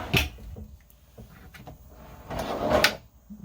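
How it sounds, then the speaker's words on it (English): Storage drawers with slam latches in a Promaster 136-inch camper van build, sliding and shutting with a couple of sharp knocks and clunks, close by with no talk. "And then he also has, nice big storage drawers,"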